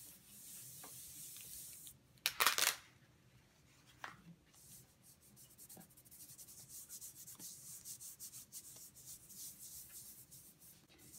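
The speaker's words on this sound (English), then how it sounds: "Smoothing it out as you go." Double-sided adhesive sheet being rubbed flat against a paper card, a soft continuous scuffing and brushing that runs throughout, with a couple of louder sharp rubs near the start; no one speaks.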